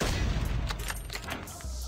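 Sniper rifle fire in a first-person shooter video game, a burst of sharp booming shots close up and loud, with rumbling echoes and no talk.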